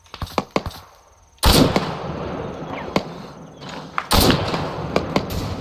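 Sniper rifle shots in Arma 3, Resistance Fighters co-op: several sharp distant cracks, with two heavier loud reports among them, set against a steady ambient bed and no talk.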